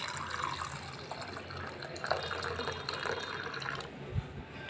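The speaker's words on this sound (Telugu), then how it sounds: "ఇందులో కొద్దిగా నీళ్లు పోసి పెట్టుకొని" Water is poured into ground tomato and tamarind pulp for a summer tomato rasam. A faint, steady trickling and splashing rolls on under a low background hum.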